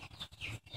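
Ten-day-old chicks being vaccinated against Newcastle disease give a few quick, high, thin chirps, close but faint over a low background hum.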